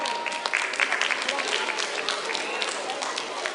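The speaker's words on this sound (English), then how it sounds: "Let's give them another round of applause." Audience applause at a live music event, a brief burst of clapping from the crowd, moderately loud and uneven, with some talk or cheering mixed in.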